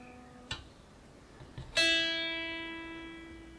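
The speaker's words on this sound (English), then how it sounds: "that was the sound of the guitar on its own," A Donner HUSH-i silent travel guitar, played unplugged, gives a couple of soft taps and knocks. A single plucked chord follows, ringing clearly and fading slowly over a few seconds. It is quiet and close, with no talking.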